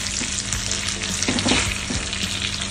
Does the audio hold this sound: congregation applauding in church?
no